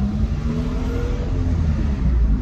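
A car drives along the road, heard from inside as a steady, loud low engine drone and road rumble with a slight rise in pitch, continuous throughout.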